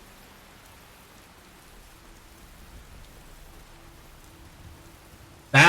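Rain falls in a PlayStation Skyrim mod video game, a faint, steady hiss of drops that ends in a sudden loud burst.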